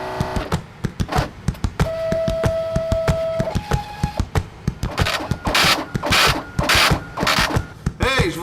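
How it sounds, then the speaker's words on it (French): Small printer running off a short document, whirring and clicking through a steady series of mechanical thunks and feed strokes, with louder bursts of paper-feed noise toward the end, close and alone. "Maintenant, on va imprimer ce petit document."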